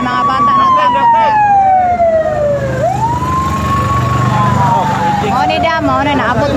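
A fire truck siren wails loud and close as it arrives at a house fire in a neighborhood, a long falling then rising tone that sweeps slowly back down, with engine rumble and voices talking underneath.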